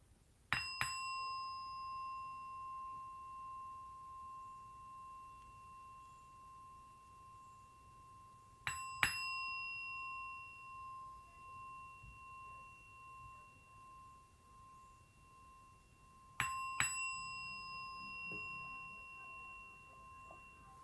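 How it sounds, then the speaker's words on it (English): Bell at a New Thought Sunday celebration struck three times at slow, even intervals, each strike a clear bright ring with a long fading reverberation, heard alone. "Let me ring the bell."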